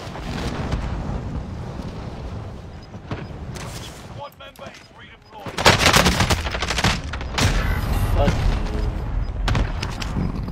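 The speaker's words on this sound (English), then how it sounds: "I'm shooting one dude, another dude just lands in front of me shooting me." Rapid bursts of gunfire in the Call of Duty: Warzone video game, loud and dense with a brief lull mid-way before heavier, sustained shooting resumes, mixed with game ambience.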